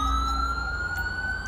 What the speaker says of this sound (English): Let me get the siren off.